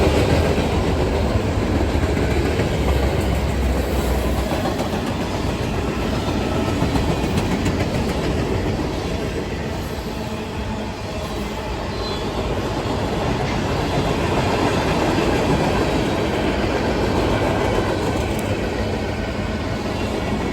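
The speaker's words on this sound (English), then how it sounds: "We got us a train." A short train rumbles by continuously with rolling clatter of wheels on track, loud and close, steady throughout.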